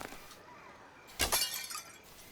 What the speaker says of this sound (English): So first you got to break the glass